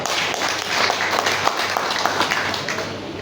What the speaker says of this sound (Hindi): इस बात से सहमत है तो आप लोग तालियां बजा सकते हैं।